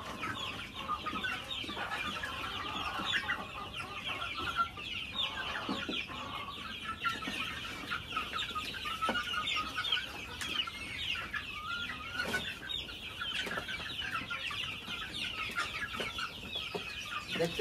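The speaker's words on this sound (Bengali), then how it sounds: "আপনারা দেখেন মুরগি কিভাবে খাওয়া শুরু করে" A flock of chickens clucks continuously while eating homemade feed, with soft, overlapping calls and pecking noise at moderate volume and no talking.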